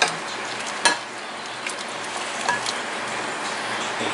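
Soup hitting a hot pan on a kitchen stove for chicken avocado soup: a steady, soft sizzle and crackle with a couple of brief clinks, close by and with no talking.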